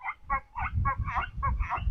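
Chickens cluck and squawk in a rapid series of short, close calls inside a chicken coop, with low rustling and shuffling underneath.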